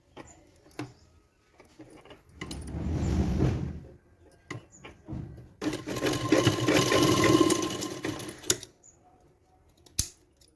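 A sewing machine runs in two loud bursts, stitching overlapped blouse fabric for a back neck design, with quieter handling clicks and rustles between them.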